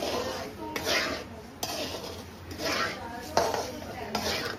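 Spices for poha chivda are stirred and mixed together in a pan, with repeated scraping, rubbing strokes of a utensil against metal in an uneven rhythm, close and fairly quiet, with no speech.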